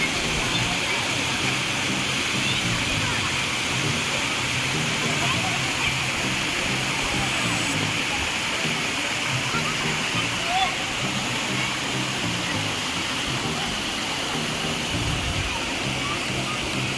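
Rushing water at a river or waterfall beside a New Year picnic spot near Sambalpur, a constant, dense roar that stays even from start to finish.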